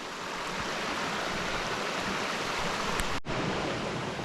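Rushing water of a mountain brook on a White Mountains hiking trail, a steady broad wash of flow close by with a brief dip near the end, no voices.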